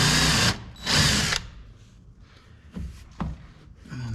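A power drill bores holes while fitting splash guards on a 2023 GMC Canyon AT4X, with two loud, close bursts of whirring followed by a few shorter, quieter trigger pulls.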